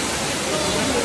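Bhagsunag Waterfall rushes as a dense, constant roar of falling water, loud and close, broadband and unbroken for the whole short moment.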